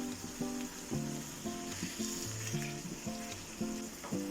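Mackerel fries in coconut oil with a steady close sizzle, while harmonic tones that sound like background music come and go throughout.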